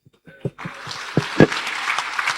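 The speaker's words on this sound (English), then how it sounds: "A round of applause." A small crowd at a talk on philanthropy and poverty breaks into applause after a few scattered claps, building into steady clapping with a voice faintly underneath.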